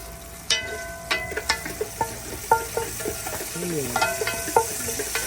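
Curry leaves dropped into hot oil at an outdoor cooking spot crackle and sizzle close by, with sharp clicking stirs and scrapes breaking through the steady fry.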